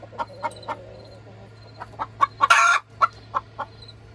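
A nesting hen gives a string of short, evenly spaced clucks, close and clear, with a louder squawking burst in the middle before the soft clucking resumes over a low steady hum.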